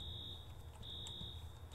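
A continuous high-pitched electronic alarm tone blares steadily in the video game Infra at a water treatment plant, with a low rumbling hum underneath and no pauses.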